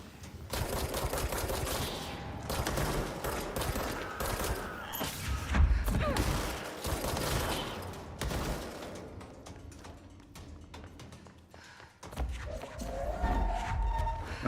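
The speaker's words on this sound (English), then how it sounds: "Another sniper somewhere." Sniper gunfire rings out in the video game Control, with repeated sharp shots and bursts scattered through a busy, dense game soundscape, some louder cracks standing out near the middle.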